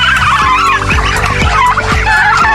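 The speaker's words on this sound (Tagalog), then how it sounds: "mayroon po akong labing anim na pabo saka po labing anim na pato" Backyard turkeys gobble in loud, repeated rattling bursts close by, about one every half second, with ducks and other fowl calling underneath in a busy, continuous chorus.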